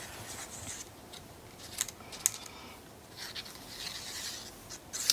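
Paper trimmer blade slicing a strip of cardstock: quiet, brief scraping swipes with a few small clicks, close and soft, without talking.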